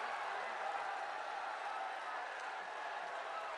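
A large crowd at a political rally with Prime Minister Modi in Moradabad, Uttar Pradesh keeps up steady, dense applause and cheering, a continuous wash of clapping heard from some distance.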